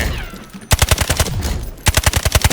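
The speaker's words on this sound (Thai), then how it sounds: "มาลองยิงในสนามยิงปืนได้นะครับ" Rapid automatic gunfire rings out from a customized gun being test-fired at a shooting range in the Delta Force video game, in two loud, sharp bursts separated by a short pause.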